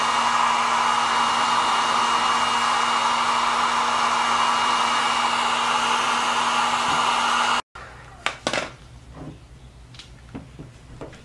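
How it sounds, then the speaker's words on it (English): A heat gun blows steadily and loudly while heating the adhesive behind a car emblem, a continuous airy roar that cuts off abruptly, followed by a few faint clicks and handling noises. "What I use is the heating gun. I heat it up so that I can start taking it off."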